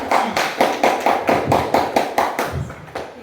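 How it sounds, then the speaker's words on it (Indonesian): A group applauding a team named Mawar Putih at a school gathering in Indonesia, with a steady, roughly rhythmic run of close, hearty claps that taper off near the end; no talking over it. "berikan tepuk tangan untuk kelompok Mawar Putih"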